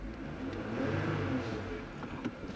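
A 4WD vehicle engine labours up a 27-degree incline in four-wheel low, a low rumbling drone that swells briefly and then settles, steady and close.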